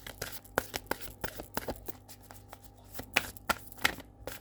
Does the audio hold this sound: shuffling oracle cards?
yes